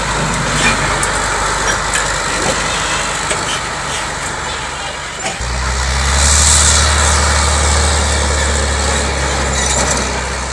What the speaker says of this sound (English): this white truck was towing a broken truck to a repair place